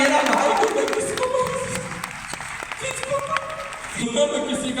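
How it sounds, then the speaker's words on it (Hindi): A crowd claps steadily in tribute to someone who has died, the applause spread and moderately loud over about five seconds, with a voice sounding over it. "उनके लिए भी एक जोरदार ताली बजा दें"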